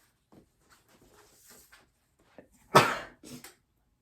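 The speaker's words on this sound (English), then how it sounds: "I have to sneeze." A single loud sneeze bursts out indoors, preceded by a few soft breaths and rustles, then followed by a brief quieter exhale or sniff.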